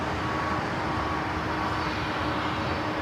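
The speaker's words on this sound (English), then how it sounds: "The American Dreamliner arriving there on the north side, heading into one of the gates of Tom Bradley." An American Airlines 787-8 Dreamliner arrives at LAX, taxiing toward a Tom Bradley terminal gate, and gives off a steady, broad jet engine roar at moderate distance with no change across the few seconds.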